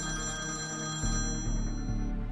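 A phone ringing with an incoming call, a steady electronic ringtone with sustained tonal pulses repeating close and fairly loud, no voices.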